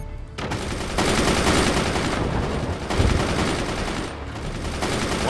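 Machine gun fire in the battle game Forts, a loud, continuous rattle of rapid shots with heavier bursts, running steadily throughout without talk.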